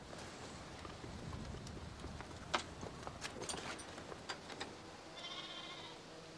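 Sheep bleat a few times at a distance over outdoor rustling and shuffling hooves, with some faint clicks and knocks.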